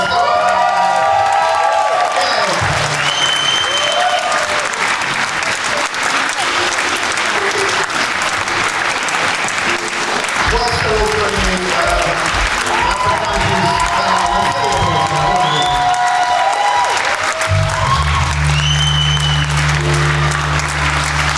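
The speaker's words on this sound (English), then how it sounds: "Keep that applause going." An audience at a concert in the Howard Assembly Room, Leeds, applauds loudly and continuously, with scattered cheers and whoops throughout. A low sustained tone joins near the end.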